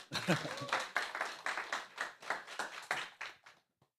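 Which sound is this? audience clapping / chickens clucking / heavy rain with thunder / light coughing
audience clapping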